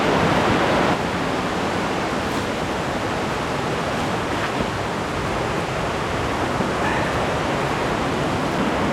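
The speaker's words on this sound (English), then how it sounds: "Crazy waterfalls, crazy gorge all the way through here." Loud, steady roar of a rushing creek and waterfalls in a gorge, a broad constant wash, close and unbroken throughout.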